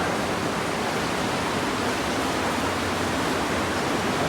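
A small waterfall inside Miller Tunnel pours continuously, a dense, steady roaring rush that fills the enclosed space with no speech.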